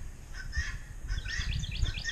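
Birds chirp and call in short bursts outdoors in early spring, with leaves just coming out on the trees, clear and fairly close over a low background rumble.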